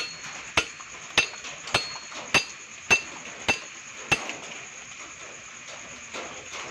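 A makeshift tool knocks on the centre of a car's rear wheel axle while the wheel seal is replaced: seven sharp metallic taps at an even pace, close and ringing, then one more lighter tap after a pause.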